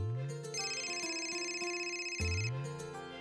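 A phone rings with an electronic ringtone for an incoming call, a bright repeating melodic tone with sustained notes, moderately loud and alone with no talk over it.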